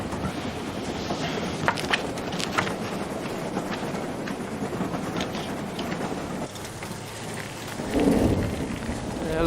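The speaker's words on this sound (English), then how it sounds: "It looks like a storm." A thunderstorm with steady heavy rain, rolling thunder rumbling throughout and a louder close rumble near the end, with no voices.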